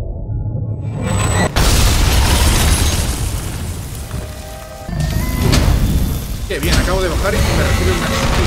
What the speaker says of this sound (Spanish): El meteoro y me mata en la explosión del suelo